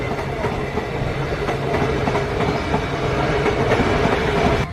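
An AC local train on the Sealdah division at Ranaghat station platform passes loudly and close, with steady rumbling wheels and rhythmic clickety-clack of the carriages throughout.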